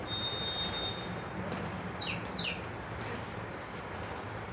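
Small birds chirp outdoors in brief, faint high tweets, a couple of quick descending calls standing out over a steady low background hum during a quiet gathering.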